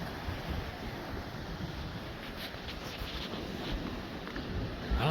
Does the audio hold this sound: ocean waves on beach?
yes